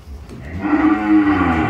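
A cow at a cattle farm lets out one loud, close, drawn-out moo that rises after a short pause and holds to the end, with no one talking over it.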